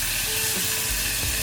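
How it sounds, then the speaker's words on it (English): Bacon sizzling and frying in a pan at a truck campsite, a steady broadband crackling hiss throughout, close and continuous with a low rumble underneath. "everything's going to fry up in the bacon fat"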